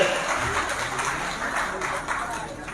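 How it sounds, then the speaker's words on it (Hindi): Crowd applause at a political rally, a steady wash of clapping heard from a moderate distance throughout, fairly even in loudness with no single claps standing out. "इसी कड़ी में जोरदार तालियां और अभिनंदन"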